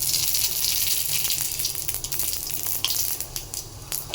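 Radhuni spice and a green chilli crackle and sizzle in hot oil, a steady close frying hiss with scattered sharp pops, no voices.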